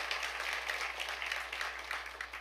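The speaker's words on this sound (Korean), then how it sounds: "우리 박수 한번 합시다 주님께" Church congregation clapping together during a Sunday morning worship service, a dense, steady wash of applause that holds at an even level throughout with no voices over it.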